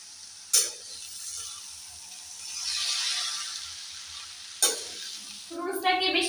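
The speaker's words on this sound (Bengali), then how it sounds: "নুডলসটাকে বেশি ভাজা যাবে না, হালকা করে ভেজে নিতে হবে" Noodles seasoned with salt and turmeric fry lightly in a pan, a soft steady sizzle punctuated by two sharp scrapes of a spatula and a rattling stir at the end.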